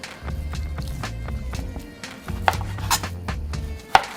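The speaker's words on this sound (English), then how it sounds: "So we chop the meat like" A knife chops chuck tender stew meat into small cubes on a cutting board, with a run of soft, irregular close thuds and a few sharper knocks toward the end.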